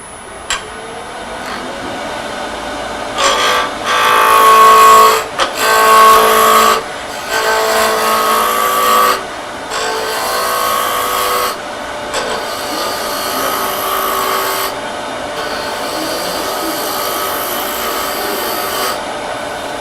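A wood lathe turns a finial ornament while a gouge cuts the spinning wood, giving a steady raspy scraping in several louder bursts with brief pauses between them, near and continuous without talk.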